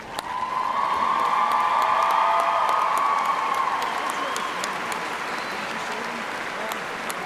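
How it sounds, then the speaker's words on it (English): Commencement audience at a spring university graduation ceremony breaking into a sustained, loud round of applause, dense clapping from a large crowd with scattered cheers and whoops throughout. "please join me in showing your appreciation for these very important people in your lives with a generous round of applause"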